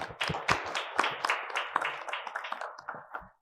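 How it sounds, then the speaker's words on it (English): An audience claps for a panel of speakers at an event. The applause is steady and fairly close, with many hands clapping, then it thins out and stops after about three seconds. "So let us have a big applause for our panelists."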